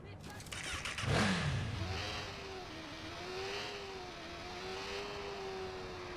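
A motorcycle in the Watch Dogs video game starts up and revs, then holds a steady engine drone with slight pitch shifts, moderately loud beneath game noise.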